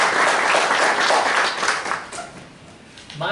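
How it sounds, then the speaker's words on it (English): A round of applause at a meeting, a burst of many hands clapping together that fades away, with some murmuring voices mixed in. "let's give him a round of applause"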